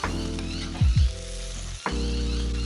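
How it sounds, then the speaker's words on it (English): Steaks sear on a Kamado Dragon grill with a loud, steady sizzle throughout, broken by two quick surges near the start and a brief dip before the crackling resumes at full strength. "Now I'm going to finally do the last sear."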